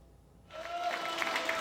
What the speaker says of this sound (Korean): 송영길 전 민주당 대표가 박수를 받으며 단상 위로 올라옵니다.